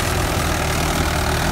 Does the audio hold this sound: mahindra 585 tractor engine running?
yes